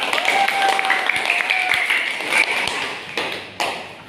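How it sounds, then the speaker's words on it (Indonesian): A classroom of students applauds during a peer-teaching chemistry lesson, a steady patter of many hands with a few sharper claps standing out and a faint tonal whine running beneath, fairly close and lasting throughout. "Tepuk tangannya dong."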